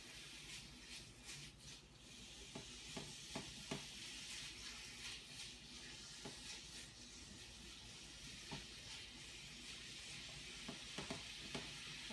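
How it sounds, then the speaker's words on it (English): Ground hamburger meat frying in a pan gives a steady, faint sizzle and crackle, with scattered soft clicks of stirring and scraping and no voices. "you're just gonna fry up your hamburger and cook your noodles"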